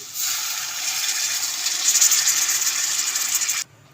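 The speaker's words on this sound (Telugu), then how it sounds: "వాటర్ పోసుకుందామండి" Water pours steadily into a hot pan of frying urad dal vadiyalu for a few seconds, a continuous hissing rush that stops abruptly.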